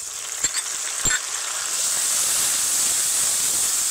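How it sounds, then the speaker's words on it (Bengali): Onion paste added to hot oil with already frying sliced onions, a couple of quick clicks and then a swelling, steady hiss of sizzling that holds loud and even. "এইবার দিয়ে দেব পেঁয়াজ বাটা।"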